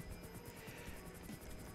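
Helicopter rotor in GTA 5 Online, a steady close chopping whir with rhythmic blade pulses running continuously, without talk.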